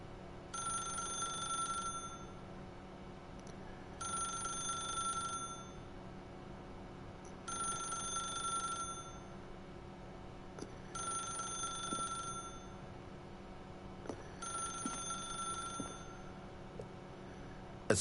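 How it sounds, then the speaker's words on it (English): A telephone rings in the video game The Stanley Parable: five evenly spaced, bright bell trills of about a second and a half each, separated by short pauses, over a low background hum. "then pick up the phone"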